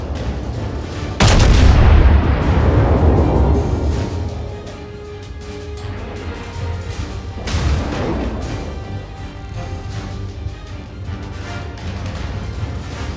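Incoming naval artillery fire in a battleship video game, a loud booming impact followed by a long rumbling decay, then a second weaker blast several seconds later with lingering low rumble, no voices.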